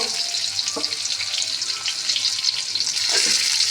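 Diced brinjal frying in a pan with turmeric and salt, a loud close continuous hiss of oil with a couple of brief stirring knocks, no talking.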